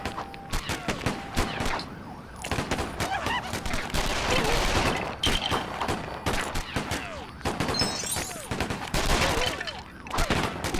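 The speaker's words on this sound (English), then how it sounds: "Stop shooting at me, please." Rapid bursts of gunfire in a Joker video game story mode, loud and dense, with siren-like tones and game effects layered throughout and a voice briefly under the din.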